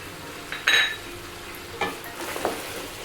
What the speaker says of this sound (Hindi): और गोश्त को हम अच्छे से फ्राई करेंगे